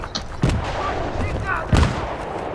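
Two heavy gunshot blasts ring out in Battlefield 3 multiplayer, each a sharp booming crack over a busy game background, spaced about a second apart.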